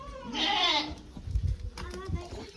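A goat bleats loudly up close in one drawn-out cry while being held for eye drops, followed by shuffling, handling noises and faint voices nearby.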